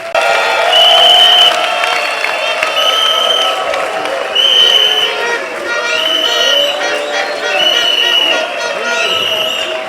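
An assembly breaks into sustained applause and cheering in a large hall. Several loud swells of clapping and voices rise and fall across the whole clip, with crowd babble underneath.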